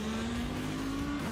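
Lamborghini GT race cars at Aragón, side by side into the turn 16 braking zone, give a loud, continuous engine drone that holds a steady pitch and dips slightly near the end.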